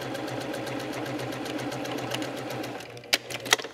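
A sewing machine stitches quilt pattern pieces with a steady fast mechanical hum and rapid needle rhythm, close by, ending with a couple of sharp clicks as it stops.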